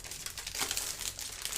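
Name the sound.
plastic bag packaging crinkling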